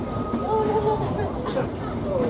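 Disneyland Railroad train rolling along its rails, a steady rumbling ride with faint squealing tones, under crowd babble and voices throughout.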